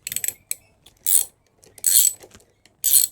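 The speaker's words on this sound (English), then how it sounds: "it's important to take these bolts off" Bolts being loosened on a Honda CB125F throttle body with a ratchet, in short bursts of quick clicking separated by quiet pauses, close and crisp, with no talking.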